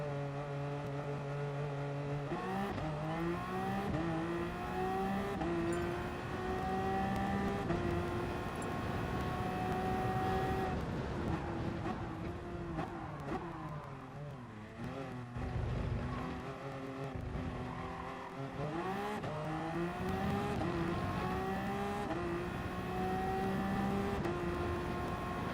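Toyota race car lapping Monza circuit in an endurance race, engine loud and close throughout with rising and falling pitch through gear changes, a brief lift and downshift midway before flooring it again.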